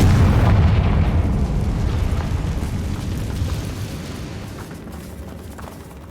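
A Confringo fire spell explodes in Hogwarts Legacy, a loud, deep boom that rolls out and slowly fades over several seconds.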